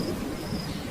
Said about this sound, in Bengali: 3 দিন ধরে একটানা বৃষ্টি